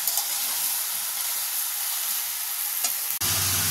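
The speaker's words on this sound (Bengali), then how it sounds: "কতক্ষণে ভাজা ভাজা হতে থাক।" Ridge gourd and potatoes frying in a pan give a steady, close sizzling hiss with a few stirring scrapes, broken by a brief cutout near the end.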